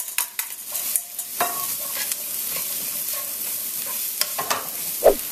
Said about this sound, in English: I've been sauteing the onion here on medium to high heat for about 2 minutes.